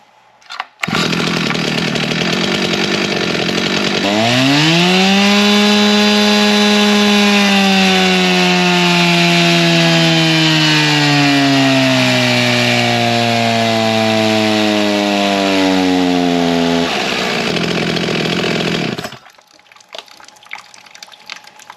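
A 60cc Holzfforma G366 chainsaw, a clone of the Stihl MS361, roars close and loud at full throttle through power cuts in wood, its engine pitch sagging and recovering under load before it drops away to idle.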